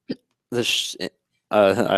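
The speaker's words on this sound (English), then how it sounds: "hiccup" A woman hiccups in the middle of a conversation on a talk show, short sharp voiced catches set between bursts of speech.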